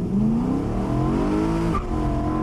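A BMW M3 V8 accelerates hard with wheel spin, its engine note climbing in pitch, then a brief break as it shifts into second gear before the revs pull up again.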